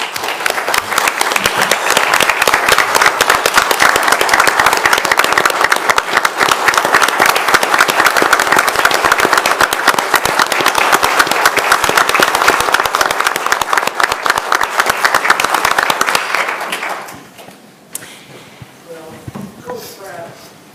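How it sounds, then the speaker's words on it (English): City council meeting attendees giving a loud, sustained round of applause that claps steadily for about seventeen seconds, then fades out into quiet room sounds and a little talk. "would you please give him a round of applause for his service?"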